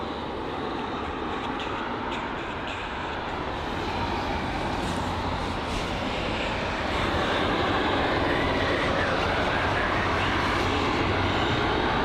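A jet departing London Heathrow, its broad engine roar steady and building slightly over the whole stretch, heard at some distance behind buildings with no nearby talk.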